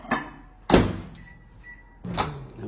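A microwave oven door shuts with a sharp close thunk as a food dish goes in for heating, followed by quieter handling noises and a second softer clunk.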